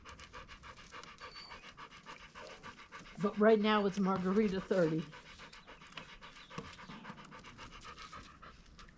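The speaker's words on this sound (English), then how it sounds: "all you can hear is puppy dog panting because that's what she does" A Lab dog pants in rapid, rhythmic breaths close to the microphone throughout, heard beneath and between a woman's speech.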